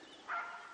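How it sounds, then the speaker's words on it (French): A single faint, distant bark rises briefly above a soft background hiss. "vous entendez le chien qui aboie"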